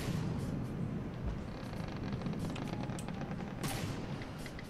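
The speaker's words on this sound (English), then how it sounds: "Oh, I'm shooting at them. Oh, I'm shooting a mountain." Weapons firing in From the Depths at a mountain as ships approach: dense, continuous volleys of cracking shots and booms, a loud rapid fusillade with no pauses.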